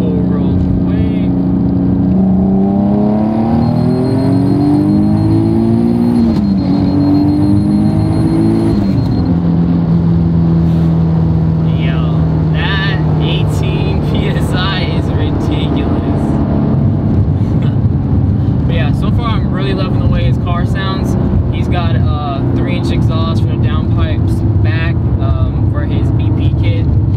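BP single turbo Nissan 370Z Nismo making a full pull, loud engine revving through rising gears with shifts and turbo whine, close and continuous, with people talking over it.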